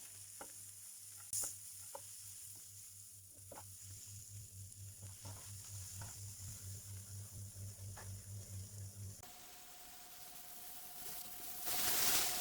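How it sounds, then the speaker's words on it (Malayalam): Onion sautéing in a pan until soft for a Kerala bitter gourd fry, a quiet steady sizzle with periodic stirring scrapes and a low hum in the background. "ഈ ഉള്ളി ഒന്ന് സോഫ്റ്റ് ആകുന്നവരെ സോട്ട് ചെയ്യണം"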